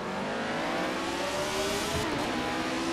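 Retro Formula 1 car engine in the Assetto Corsa racing sim at Monza, revving steadily at high pitch with a continuous droning whine that dips briefly, loud and alone without talk.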